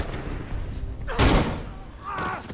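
A single loud, close gunshot in Beyond: Two Souls, a sharp burst with a deep booming body amid game ambience and a voice.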